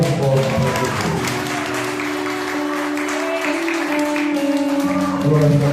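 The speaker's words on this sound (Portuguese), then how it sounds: "Quem crê, dá uma salva de palmas, bem forte para Jesus." A church congregation applauding strongly in praise during a worship service, a steady wash of clapping that lasts throughout, mixed with sustained voices or music.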